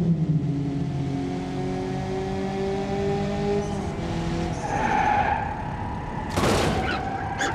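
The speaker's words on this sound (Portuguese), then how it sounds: "Olha o drift, vocês não queriam drift aí, ó" A car drifting in BeamNG Drive, engine droning with rising revs and long sustained tire squeal, followed by a sharp thump or impact near the end.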